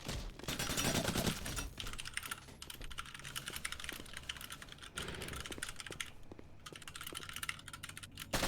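Rapid computer keyboard typing clatters through the whole stretch amid game sounds during a Warzone esports broadcast, the keystrokes fairly close and steady with no talk over them.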